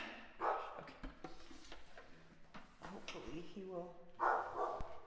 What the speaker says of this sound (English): get his barks out before I start singing